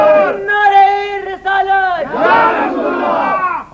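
A rally crowd roars back in unison to the Naara-e-Takbeer call, loud and close, with a sustained shouted chant that swells, dips briefly, then surges again in a second wave.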